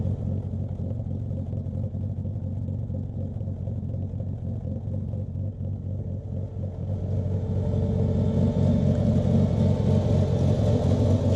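A Jaguar E-Type 4.2 coupé engine rumbles steadily at idle, close by, then grows a little louder and fuller toward the end, with no voices.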